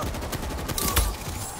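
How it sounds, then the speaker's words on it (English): Gunfire and a grenade blast in the zombie shooter World War Z, with rapid shots crackling through and a single sharp explosion near the middle, fairly loud over a busy game mix. "That's another grenade."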